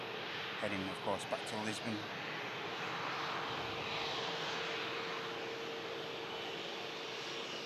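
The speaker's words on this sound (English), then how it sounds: "looks like the TAP Air Portugal now entering the active runway" A TAP Air Portugal jet at Manchester Airport rolls onto the active runway, a continuous distant engine rumble beneath someone speaking briefly at the start.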